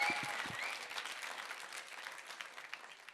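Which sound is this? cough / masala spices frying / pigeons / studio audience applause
studio audience applause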